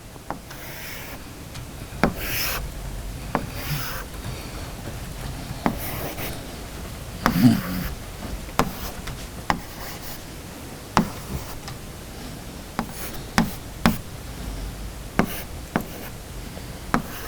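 A pencil scratches across paper while a hexagon is drawn for an engineering graphics exercise, with light rubbing strokes and sharp ticks from a ruler or the pencil tip at irregular intervals, close and quiet.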